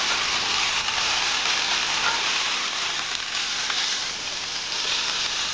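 A freshly flipped steak sears in a hot pan with a loud, steady hiss of crackling fat that holds even and close throughout, with no talking.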